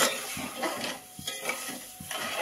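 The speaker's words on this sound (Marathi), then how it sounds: "आता आपण असं सारखं ढवळत राहू" Soaked sugar being stirred steadily in a pan for balushahi syrup, with soft repeated scraping and clinking strokes at a regular rhythm, close and moderately loud with no voices.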